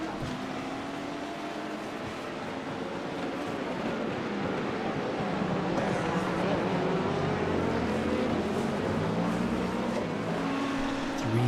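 LMP2 and GTP prototype race car engines in iRacing drone steadily and loudly through an IMSA race, their continuous roar rising and shifting in pitch as cars run close together.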